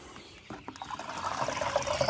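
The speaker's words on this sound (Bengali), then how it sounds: "এই তুতিয়াটা এই ডামে আমরা এইভাবে ঢালবো" Copper sulfate solution is poured from a mug into a drum for poultry use, a faint trickle that builds into a louder, fuller splashing pour toward the end.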